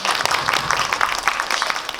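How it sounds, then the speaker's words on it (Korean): An audience at a film talk event claps together, a dense patter of many hands held steady at moderate volume for the whole stretch. "좀 큰 박수 한번 다시 부탁드릴게요"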